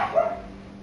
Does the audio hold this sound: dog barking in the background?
yes